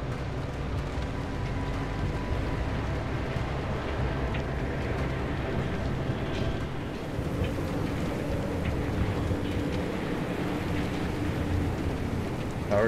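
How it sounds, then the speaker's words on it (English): Dense, continuous rain in the Pacific Drive video game roars evenly throughout, a thick hiss with low rumbling underneath and no voices. "Of course, it's going to start raining on us."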